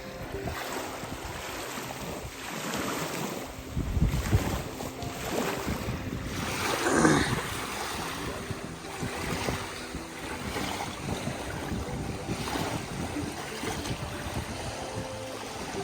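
Continuous rushing stream water with a steady whooshing wash, swelling louder a couple of times, close by with no voices, on the Appalachian Trail.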